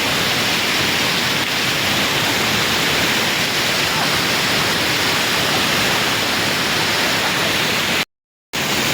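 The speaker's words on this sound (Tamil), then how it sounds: "தண்ணி பயங்கரமாக போயிட்டு இருக்கு" A heavy, continuous roar of water pouring at a lake fills the whole clip, loud and steady like a waterfall, with a brief dropout near the end.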